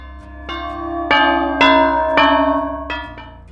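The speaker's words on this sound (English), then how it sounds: "A familiar bell rings." A bell in Dead by Daylight rings out in a series of bright, resonant strikes, each chime ringing on and overlapping the next over a low steady hum.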